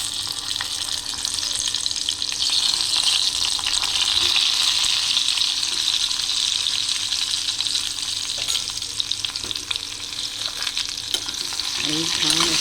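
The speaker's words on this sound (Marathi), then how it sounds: "ही वांगी मी एक एक करून ह्या तेलात सोडणार आहे" Stuffed eggplants (bharli vangi) frying in hot oil seasoned with cumin, asafoetida and turmeric on a lowered flame, giving a loud, dense, continuous sizzle with an occasional utensil clink near the end.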